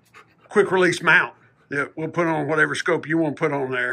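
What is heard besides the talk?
dog panting and whimpering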